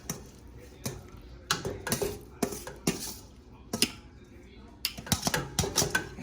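Cooked fettuccine goes back into a metal pan for a chicken Alfredo, heard as a run of sharp clinks and scrapes of utensil against the pan that come in irregular bursts, close and fairly loud.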